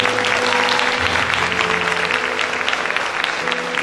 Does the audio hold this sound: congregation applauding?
yes